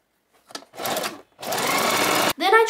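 A sewing machine stitches the seams and hems of a doll gown in short, loud, close bursts of rapid whirring, separated by brief pauses, with a longer steady run in the middle.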